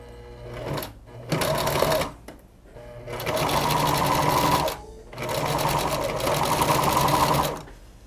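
Sewing machine stitching polyester thread through pillow fabric and batting, several bursts of steady machine whirring separated by short pauses, loud and close.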